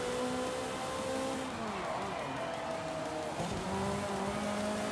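Race cars in Forza Horizon 5, including a Lamborghini and a Ferrari, roar continuously with shifting engine tones and squealing tires, loud and steady throughout.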